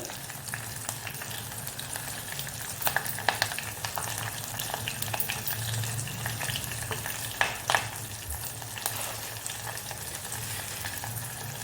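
Curry leaves, cumin seeds, dried red chillies and asafoetida frying in hot oil give a steady close sizzle, with a few louder crackling pops and spatters along the way and no talking.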